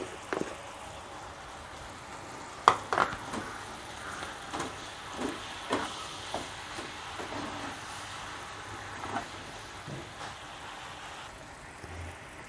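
Red and green chili mixture goes into chicken simmering in its reducing liquid, giving a steady soft bubbling sizzle with a few sharp clatters early on and no talk.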